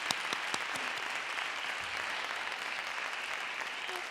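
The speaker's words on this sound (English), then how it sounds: "Give them a round of applause." Audience applause at a youth poet laureate celebration in Santa Cruz County, steady dense clapping from a seated crowd that continues evenly throughout without talk.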